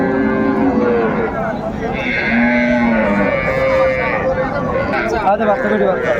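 At a crowded cattle market in Raniganj, cows and calves moo in long, overlapping calls over constant hubbub and nearby voices.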